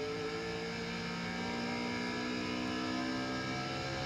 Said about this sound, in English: He's down on the throttle down as he goes in.